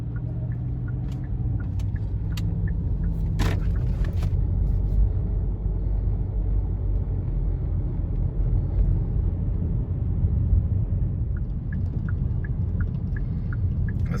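Steady low rumble of heavy road traffic passing near a bridge, cars and larger vehicles blending into a continuous drone with a brief louder pass partway through, no voices.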